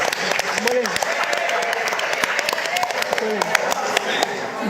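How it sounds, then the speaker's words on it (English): A conference crowd at a Grenadian cultural and creative industries event applauds for an honoured guest, with dense, steady clapping throughout and a voice calling out over the top. "Give him a round of applause, please."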